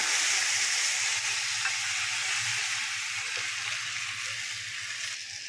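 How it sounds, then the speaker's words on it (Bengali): Onion, garlic and chili sizzle in hot oil while tempering dal, a steady close frying hiss that holds at an even level throughout, with no talking. "এটা করে নেব ডালটা ফোড়ন দিয়ে।"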